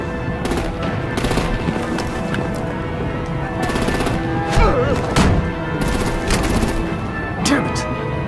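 Artillery and gunfire in a Batman video game, bursts of rapid automatic fire and heavy thuds throughout, with shouted voices over the combat.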